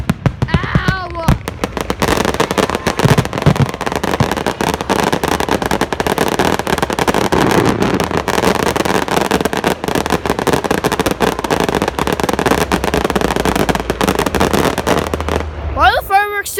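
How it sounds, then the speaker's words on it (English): Fourth of July fireworks show with dense, continuous bursts and crackling pops, loud and close, the barrage filling the scene while voices talk and shout over it. "Why are the fireworks still going after there's the fire?"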